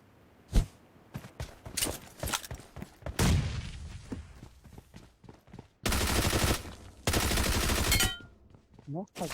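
Bursts of rapid automatic gunfire and single shots ring out in a shooting video game, including two long sustained volleys, with players talking in between.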